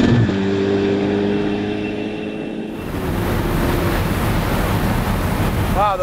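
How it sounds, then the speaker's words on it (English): A Ferrari F8 Spider, 710 hp, accelerating hard in sixth gear through a sweeping bend, engine roar swelling into a broad rushing blast of engine and wind noise after an earlier quieter, humming stretch. "the power in sixth gear, amazing"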